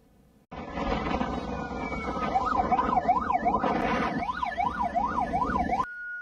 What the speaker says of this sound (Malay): ambulans berkenaan turut sama mengiringi rombongan ke rumah pengantin dengan siren dihidupkan